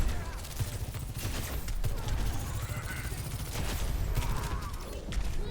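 Barrage ultimate firing in Overwatch sounds as a dense run of rapid shots and bursts, loud and continuous over a rumbling low end, with a voice talking over the gameplay.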